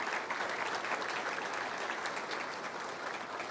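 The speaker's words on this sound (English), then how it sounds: "Give them a round of applause, please." Audience at a public safety award event applauds its sponsors, a steady, dense burst of clapping from a crowd that holds at even strength throughout, heard from some distance.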